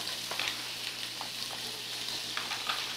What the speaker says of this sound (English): we're going to get those sauteing and starting to sweat a little bit to start your beans